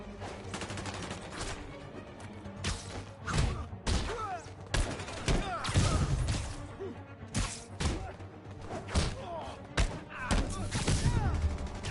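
Enemy gunfire in a Spider-Man game crackles in repeated bursts and single shots, loud and irregular, mixed with heavy thuds and impacts, while voices talk in between.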